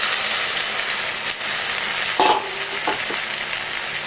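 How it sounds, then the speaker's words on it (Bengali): Okra and chopped garlic fry in a pan with a loud, steady sizzle, broken by a few short scraping stirs near the middle and no talking. "এখন আমি দিয়ে দেবো ভেন্ডিগুলো।"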